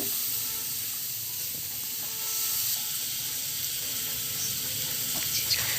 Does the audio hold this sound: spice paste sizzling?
yes